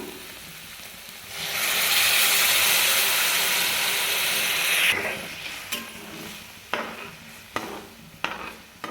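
Hot water poured into a pan of frying onion and potato vegetable bursts into a loud sustained hiss and sizzle for several seconds, then fades to a low simmer with a few sharp spoon scrapes and taps.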